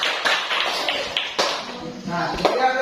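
A group claps for the first team in a classroom presentation: steady, close applause of many hands lasting a few seconds.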